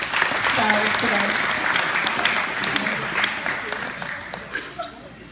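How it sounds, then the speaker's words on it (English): An audience at a high school after-prom hypnosis show applauds, a broad sustained clapping that fills the room and slowly thins toward the end, with a few chuckles and scattered voices mixed in. "How about a round of applause for all of our stars today?"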